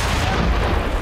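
A secondary fuel tank blows up on a vehicle in Mad Max, giving one short, heavy, loud boom that fills the whole moment with dense rumbling noise.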